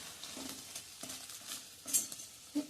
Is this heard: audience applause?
no